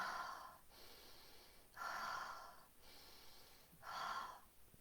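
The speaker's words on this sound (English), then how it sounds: "a halo active breath, which is in through the nose, out through the mouth," Active breathing, drawn in through the nose and pushed out through the mouth, during a breathwork session: three loud, close breath cycles in a steady rhythm, each a rushing burst separated by quieter gaps.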